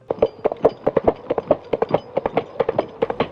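Coconut shell halves knocked together to imitate horse hooves, a steady trotting clip-clop of crisp, evenly spaced hollow knocks heard up close with no talking.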